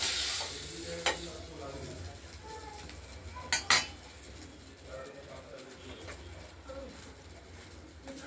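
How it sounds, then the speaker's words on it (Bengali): Pieces of ail fish frying in a pan of oil for a fish curry with potatoes and tomatoes, a steady low sizzle running throughout with a few sharp clinks of a utensil against the pan. "আরেকটা একটু ভেজে তুলে নেব"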